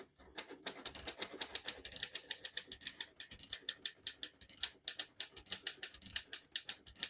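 Steady typing on a 1937 Royal De Luxe vintage portable typewriter with glass keys, a fast run of crisp, close mechanical key strikes in an uneven rhythm, heard alone with no talk.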